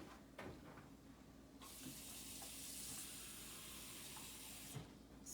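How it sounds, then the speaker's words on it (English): Tap water runs steadily into a dish for a few seconds, a close hissing stream that starts and stops, used while popping Indian corn in a microwave. "So I filled my dish partway with water."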